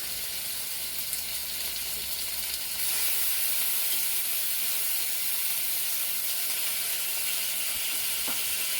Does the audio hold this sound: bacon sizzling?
yes